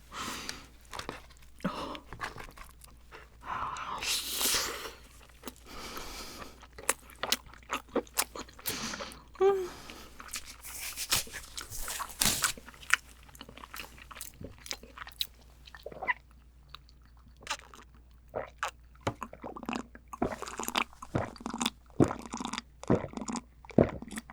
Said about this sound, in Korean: 킹크랩 어묵 해물찜을 먹어봤는데요